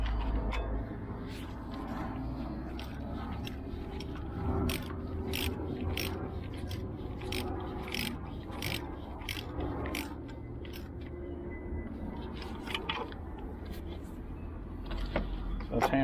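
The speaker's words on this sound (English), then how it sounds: "now I'm gonna hand tighten this" Hand tightening a bolt on the impulse wheel of a BMW 335i N54 engine, a steady series of metallic ratchet-like clicks repeating about every half second, close up over a low background hum.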